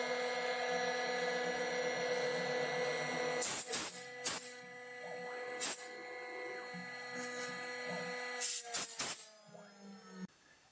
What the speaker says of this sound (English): we're going to go through and drill the 4 corners